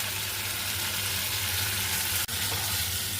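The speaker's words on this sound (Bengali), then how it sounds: "আমি এবার ভেজানো চালটা দিয়ে দিচ্ছি।" Soaked rice added to shrimp frying in oil and stirred, giving a loud, steady sizzle that runs throughout, with one brief sharp clink near the end.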